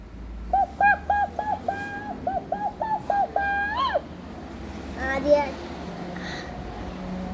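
A child imitates a rooster with a run of short rhythmic vocal calls ending in a rising crow, followed by a brief squeaky vocal burst, close up.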